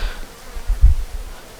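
A big honeybee swarm with drones and worker bees gives a brief, low, close buzzing hum that swells slightly in the middle.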